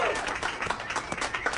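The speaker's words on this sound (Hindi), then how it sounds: "तो दोस्तों, एलिसा हेरल्डसन के लिए जोरदार तालियां।" An audience applauds a comedian at a comedy show, a dense patter of many hands clapping steadily at moderate volume, with voices mixed in underneath.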